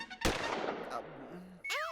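Gunfire in an action movie: a sharp, loud burst of gunshots close by, followed by a ringing tail and a whistling, swooping effect near the end.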